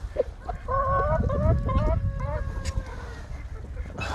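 Geese at a watermelon give a string of nasal, honking calls in close succession, near and fairly loud over low rustling and background noise, with a brief murmur of a voice.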